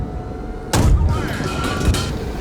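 Bradley fighting vehicles open fire in the PC tank game Gunner Heat, with a heavy boom and then a second, weaker thump over a rumbling battlefield backdrop.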